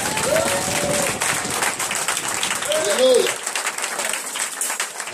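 Church congregation applauding during a Sunday worship service, a steady wash of clapping and crowd noise lasting several seconds with a voice speaking over it.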